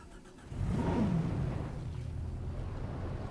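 A car engine in the Jurassic World Evolution video game starts up and revs briefly, then settles into a steady idle hum that runs on at moderate loudness to the end.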